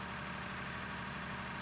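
A smoke-belching digging machine's engine idling: a steady, even mechanical drone with a low rumble, unbroken and fairly close.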